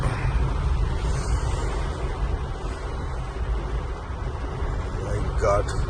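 A car pushes through deep floodwater reaching up to its tyres during torrential rain in Tirunelveli, a rough continuous engine and water rush close by, with talking over it throughout.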